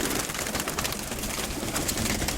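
Pigeon cooing in a loft, soft repeated coos set in a busy wash of steady background noise, with no talking.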